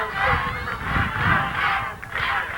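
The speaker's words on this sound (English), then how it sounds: "you can hear the Tech crowd chanting, "Let's go Tech,"" A crowd at a 1997 NYIT vs Adelphi Division II men's lacrosse championship game chants in rising and falling swells, heard at a distance as a rhythmic mass of voices.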